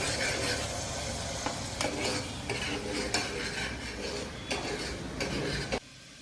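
Ground masala frying in hot oil in a pan for egg and chicken curry, with a steady broad sizzle under repeated stirring scrapes and occasional sharp spoon clinks against the metal, close and continuous with no talk.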